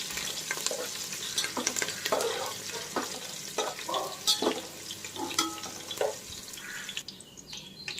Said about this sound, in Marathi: आता मिरच्या घालते मी मिरच्या देखील चांगल्या तळायच्या आहेत त्यामधलं मॉइश्चर गेलं पाहिजे